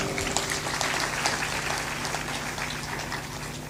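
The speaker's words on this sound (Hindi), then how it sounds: "ताली बजाते हैं, लेकिन ताली में ऐसा लगता है कुछ डरे डरे बजाते हैं" A listening audience at a spiritual discourse claps steadily, a dense, even wash of applause held at moderate volume throughout with no voice over it.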